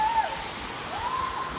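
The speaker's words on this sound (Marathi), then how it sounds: "वरनं पाणी पडाले." The Marleshwar temple waterfall in Konkan pours water down from above in a steady, even rush of white noise that fills the whole moment, with a thin whistling tone drifting over it.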